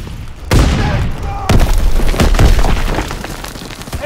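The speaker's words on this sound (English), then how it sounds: "Tossing grenade! Fire in the hole." Grenade explosions in the World War II shooter Call of Duty WW2 land as two heavy, sharp booms about a second apart, followed by crackling gunfire and debris, with voices calling out in between.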